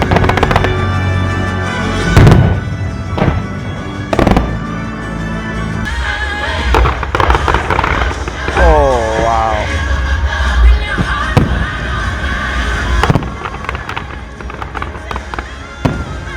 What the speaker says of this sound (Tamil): அதாவது எப்காட்டோட ஃபயர் ஒர்க்ஸ் அமேசிங்காக இருக்கும். It's one of the beautiful fire works.